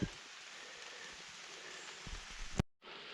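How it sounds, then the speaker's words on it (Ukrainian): Steady rain patters and hisses over the woods, a dense, even wash of drops, broken by a brief knock and a short gap near the end. "Дощ не припиняється."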